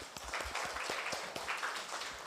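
A classroom of students claps for a classmate, a brief burst of quick, fairly faint hand claps in an uneven rhythm.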